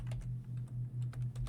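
Keys clack on a computer keyboard in a short, quick burst of close, crisp taps over a low steady hum.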